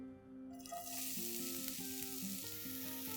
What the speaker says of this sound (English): Once the oil is nice and hot, into this I'm going to add 1 onion finely chopped.